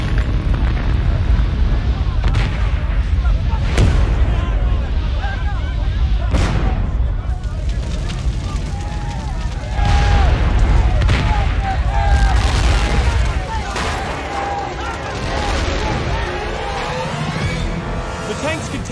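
Propane tanks at a burning Buenos Aires gas station explode in repeated heavy booms over a constant roaring fire, with a narrator talking throughout.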